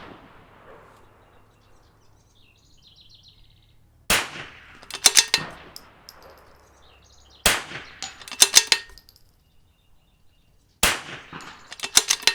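Three sharp rifle reports from an NRL22 match, spaced a few seconds apart and aimed at a 1 inch target, each followed by a quick cluster of metallic clicks and rings before quiet returns.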